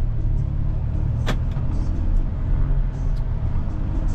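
Road traffic heard from inside a Kia Soluto driving for Grab: a steady, loud engine and tyre rumble with passing cars and one brief sharp noise, no talking.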